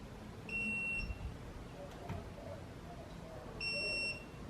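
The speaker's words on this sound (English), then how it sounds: "I'm gonna get the torque wrench on there, 37 foot-pounds" A digital torque wrench set to 37 foot-pounds, used on bolts of a C5 Corvette tensioner pulley, gives two high electronic beeps about three seconds apart over faint clicking and background noise.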